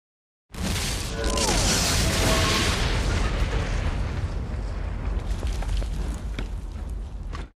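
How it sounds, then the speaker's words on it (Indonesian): A house explodes in the film The Transporter (2001), a massive loud roaring blast that rumbles on for several seconds with crackling debris slowly trailing off. "rumah Frank meledak dan hancur"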